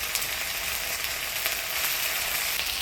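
Ginger, onion and garlic paste frying in a pan with bay leaf, dried chilli and cumin seed, a loud, dense, continuous sizzle heard close up, steady throughout with no voices.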